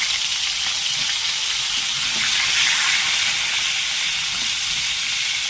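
Ingredients sizzle loudly in hot oil in a wok (kadai) while making doi potol, a bright, steady hiss of frying that holds continuous and close with no pauses.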